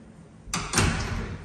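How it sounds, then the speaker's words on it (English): A utility cupboard door in a home is pushed closed, giving a sharp knock followed by a heavier thud a moment later, close and clear in a quiet room. "so we close this door first."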